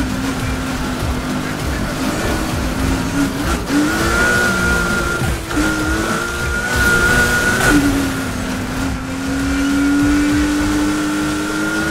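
A car engine held at full throttle in the Need for Speed Heat racing game, a loud, steady engine drone with rising and falling pitch through gear changes, running without a break.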